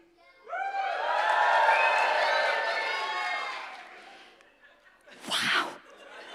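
A roomful of people cheers together, a loud sustained group whoop that swells and then fades, followed after a short pause by a brief noisy burst.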